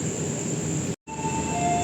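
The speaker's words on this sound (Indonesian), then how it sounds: "Melintas langsung di jalur 2 kereta api Sembrani tujuan Surabaya Pasar Turi." Sembrani passenger train passing straight through on track 2 bound for Surabaya Pasar Turi, a steady rumbling rush with a sustained high whine, briefly cut by a sharp gap before the roar resumes.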